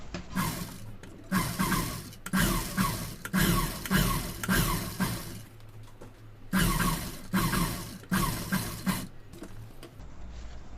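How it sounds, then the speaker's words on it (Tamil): Home sewing machine stitching along the curved round neckline of a blouse, running in repeated bursts of whirring motor and needle clatter separated by short pauses, close and fairly loud with no talk over it. "இப்போ ரவுண்ட் ஷேப்லேயும் நம்ம வந்து தையல் போட்டுடலாம்"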